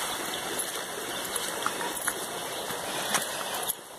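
Jaceruba waterfall stream in Nova Iguaçu, Rio de Janeiro, rushing steadily and close by as a dense, unbroken wash of water noise that stays loud from start to finish, with no voices.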